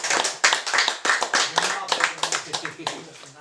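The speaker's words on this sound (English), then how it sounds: "So give him a round of applause." Audience members at a Dutch science fiction award reading clap for an author taking the stage, a brief, close burst of quick, uneven handclaps that tapers off at the end, with voices faintly underneath.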